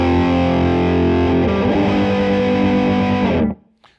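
Heavily distorted electric guitar strums chorus chords in a loud sustained wall, shifting chord once partway, then cuts off sharply near the end with a short decaying ring.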